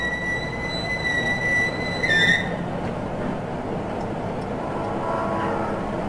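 A roller coaster train on its first test run on an Arrow Dynamics test track in Clearfield, Utah, rumbles along steel rails with high wheel squeals that fade after a couple of seconds, leaving a steady rolling roar.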